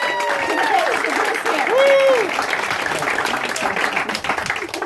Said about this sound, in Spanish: fuerte el aplauso, muchachos